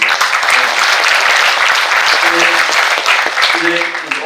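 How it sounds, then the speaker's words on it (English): Applause from an audience at the OISCA Global Summit 2024, a dense steady clatter of clapping lasting the whole stretch, loud and close, with speech-like sounds mixed in. "Today, please applaud for Japan."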